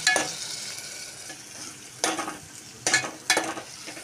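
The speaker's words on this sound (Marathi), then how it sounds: "आता आपण टाकणार आहोत त्याच्यात टोमॅटो प्युरी, तीही चांगली मध्यम आचेवर आपण परतून घ्यायची" Tomato puree fries with golden onions in oil over medium heat, a soft steady sizzle broken by several sharp bursts of spatter and stirring scrapes, close and without talk.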